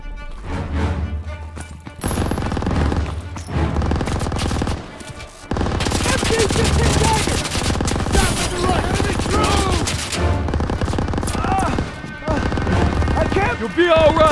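Heavy gunfire in a Call of Duty WWII street battle, with sustained loud bursts and explosions filling the scene, including machine gun fire; shouted voices are mixed in.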